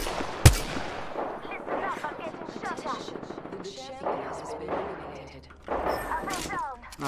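Gunfire from the video game Apex Legends, with a sharp loud shot followed by rapid bursts of automatic weapon fire and scattered shots, with players talking over the action.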